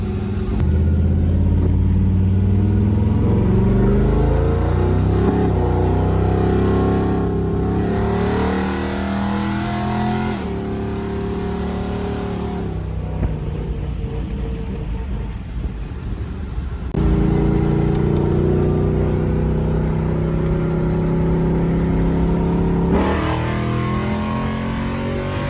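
Rebuilt 5.3 iron block V8 cruising smoothly on the road, a steady low engine drone with gear shifts and rising revs repeating, close and continuous without talk.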